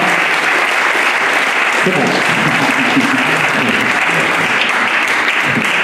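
Loud, dense applause fills the room at the closing of a general assembly, steady and unbroken throughout, with a brief word spoken over it.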